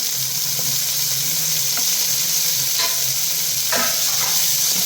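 Chopped tomatoes frying in a hot pan for a roasted-coconut chicken curry, giving a loud, steady hiss with a few faint scrapes and clicks from stirring.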